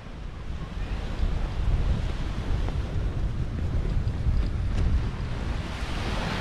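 Sea waves wash steadily onto Bình Tiên beach near Nha Trang, a continuous broad surf roar with gusty wind buffeting the microphone throughout, and no voices.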